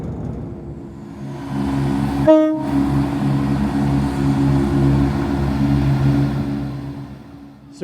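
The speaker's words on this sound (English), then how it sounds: "we are waiting for our final train now, the 1621 ScotRail service to Inverurie" A ScotRail service to Inverurie pulls into a station with a loud, sustained low engine rumble and a short horn blast early on, the heavy drone continuing steadily afterward.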